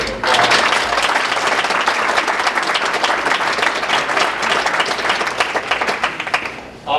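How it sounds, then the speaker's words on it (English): A crowd at an awards event breaks into loud, sustained applause, many hands clapping in a thick, even roar that holds steady for about seven seconds before tapering at the end. "I think you should deserve a hand of applause."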